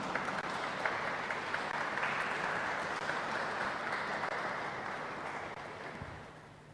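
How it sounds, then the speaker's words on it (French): Congregation applauding inside a church during a Christmas-season Mass, a steady, even spread of clapping from many hands that holds for several seconds and then gradually fades, with no voices over it. "Merci et applaudissez pour vous-même"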